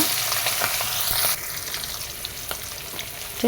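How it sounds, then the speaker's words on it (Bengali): Hilsa fish fry in mustard oil with a dense, crackling sizzle that holds steady throughout, close and unbroken by speech. "এই তো মাছগুলো এখন ভেজে নেব"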